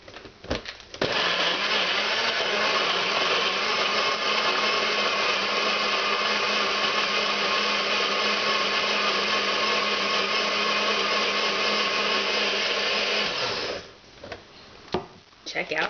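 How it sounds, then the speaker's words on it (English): A blender runs steadily and loudly for about twelve seconds, whirring up a beet, banana, kefir and raspberry shake, then stops, with brief handling noises before and after. "And we're going to screw that on, put it in our blender."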